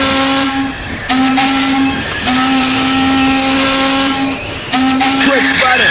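A loud, close train rumbles on the rails with a steady sustained whistle-like tone that breaks off and resumes several times, over heavy mechanical noise.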